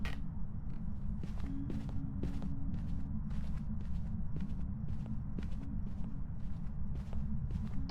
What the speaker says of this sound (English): We can hear footsteps.